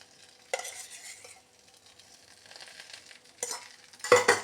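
A spoon stirs ingredients roasting in ghee in a pan for a vitamin tambli, making intermittent close scraping bursts over a faint sizzle, louder toward the end.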